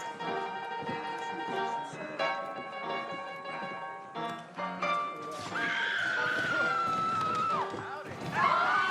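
Horses neigh and whinny in the Western game Red Dead Redemption, a long, shrill whinny rising over steady background music and ambience, with brief clip-clop and other horse sounds nearby.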